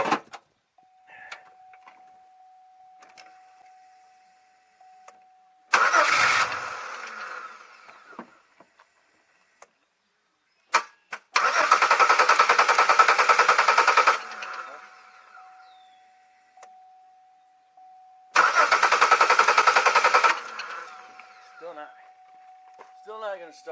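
A 2002 Chevy Malibu engine cranking without starting, in three separate loud bursts of about two to three seconds each, with quiet pauses between them.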